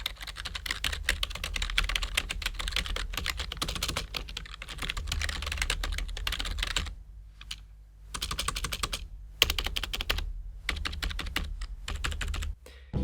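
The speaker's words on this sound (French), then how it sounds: "un petit test de frappe pour vous montrer un petit peu quels bruits sont produits par ce clavier" Rapid clattering keystrokes on a DBPower mechanical gaming keyboard, typed in bursts with short silent pauses between them, close and clear.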